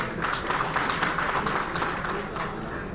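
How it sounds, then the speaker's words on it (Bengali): Audience applause from a crowd at a Bangladeshi brand promotional event, a steady dense patter of clapping held evenly throughout without pause. "আমি আমার ব্র্যান্ডের জন্য একটা তালি চাচ্ছি আপনাদের সবার কাছে"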